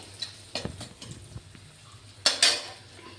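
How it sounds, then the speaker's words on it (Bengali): A metal spoon stirs salt and turmeric into oil in a pan for Burmese grape pickle, with scattered light scrapes and clinks ending in two sharper knocks against the pan. "লবণ হলুদটা দিয়ে আমি একটু নেড়ে নিলাম।"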